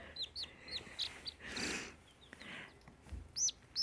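Silkie chicks chirping in short high peeps with soft clucking, faint and close, with brief rustling and handling noises between the calls.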